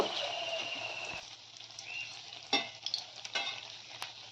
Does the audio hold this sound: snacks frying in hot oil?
yes